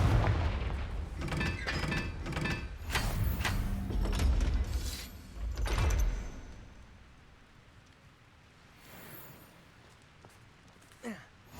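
Several explosive Confringo spell blasts go off in the Hogwarts Legacy video game, loud booming bursts in quick succession over the first six seconds, then fading to quiet rumbling with one faint late crack.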